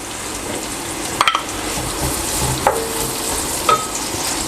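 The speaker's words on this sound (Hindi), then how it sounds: "प्याज को मैं ब्राउन कर लूँगा।" Sliced onions frying in hot ghee, giving a steady close sizzle with a few sharp clinks of a stirring spoon against the pan.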